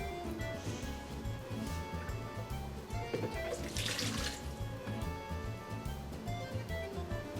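Water running from a kitchen tap into a container for pizza dough, a steady splashing gush with a brief louder surge midway, close and continuous.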